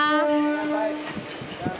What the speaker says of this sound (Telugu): మేము భీమవరం ఎక్స్ప్రెస్ ఎక్కామండి. మా ట్రైన్ అయితే స్టార్ట్ అయిపోయింది.